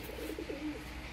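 Pigeons of fancy breeds kept at a home loft coo softly in a brief, low, repeated burble, fairly close and alone without talk.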